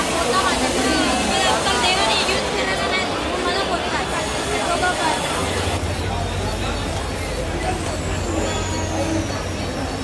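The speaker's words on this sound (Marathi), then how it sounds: "हे बघा रेल्वे स्टेशनला किती गर्दी आहे." Dense crowd babble fills busy Ghatkopar railway station in Mumbai, many voices overlapping with a low rumble beneath, loud and continuous throughout.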